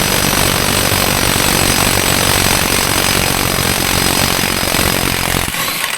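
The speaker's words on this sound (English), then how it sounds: "We'll see if my little baby impact can bust this sucker loose." A small cordless impact wrench with a 30mm socket hammers on an axle nut of a Pioneer 1000 side-by-side, a loud, close, continuous rattling roar that runs for several seconds before cutting off.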